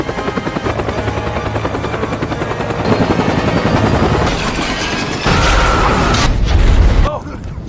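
Military helicopter in an action film, a loud continuous rotor thump and whine running throughout, with gunfire bursts and explosive booms rising toward the end under a dense movie soundtrack.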